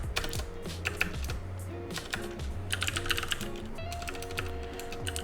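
Fast, uneven typing of code on a computer keyboard, close-up clatter of keys in continuous bursts with no talking.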